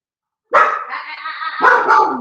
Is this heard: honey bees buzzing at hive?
no